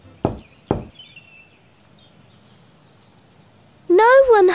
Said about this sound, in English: on the door she gives three knocks